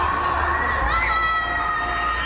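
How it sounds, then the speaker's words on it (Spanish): People shout from the windows of their homes during a lockdown, a dense, distant wash of mixed voices and cries that holds steady throughout. "La gente, desesperada por el encierro, grita por las ventanas de sus casas para pedir la relajación de las restricciones."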